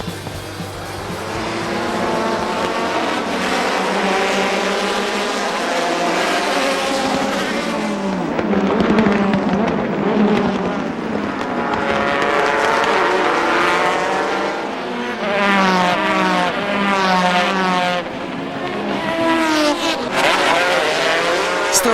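Several JGTC 2000 GT race cars roar off the grid at the race start, a dense layered wall of high-revving engines rising and shifting gears together, loud and close, with a faint voice underneath.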